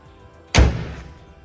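A single solid car door slam on a restored Holden LC Torana GTR XU-1, close and loud, with a short dull resonance fading out after the thud.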